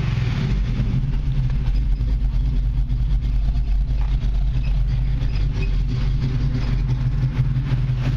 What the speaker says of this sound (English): Got a nice sounding exhaust to it.